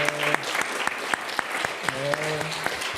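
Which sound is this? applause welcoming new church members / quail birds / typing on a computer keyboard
applause welcoming new church members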